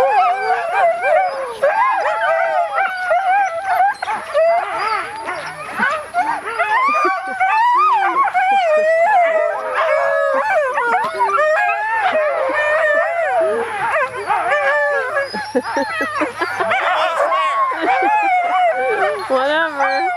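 Canadian Eskimo dog being harnessed, yipping, whining and howling continuously at close range with rapidly rising and falling pitch, loud and excited throughout.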